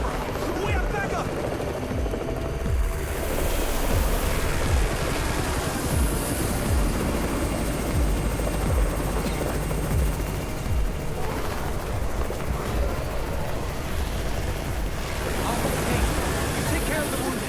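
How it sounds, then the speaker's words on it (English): A helicopter arrives as backup in the zombie game Undawn, a steady loud rotor thrum under gunfire and battle noise, with characters shouting and talking over it. "It's Raven's chopper! We have backup!"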